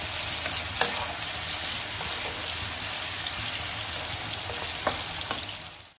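Potato and bitter gourd being stirred and fried in a pan over medium gas, giving a steady close sizzle with occasional scraping clicks of the spatula, and no voices.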